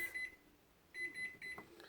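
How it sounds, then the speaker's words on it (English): A kitchen oven timer beeps in short repeated bursts, a high electronic tone sounding a few times against a quiet room. "Our timer is about to go off."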